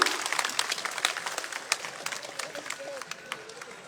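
Applause from a crowd at a BJP election campaign rally in Rajasthan, a steady wash of clapping held at moderate loudness throughout, with voices mixed in underneath.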